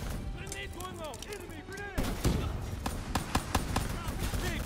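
Gunfire in the Call of Duty Black Ops III campaign during a fight against a VTOL and an APC: sharp repeated gunshots and bangs, dense in the second half, mixed with bursts of game sound close up.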